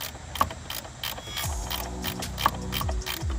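A ratchet wrench works on a car's brake master cylinder, giving close, rapid clicking bursts of the pawl in short strokes with a few sharper metallic knocks.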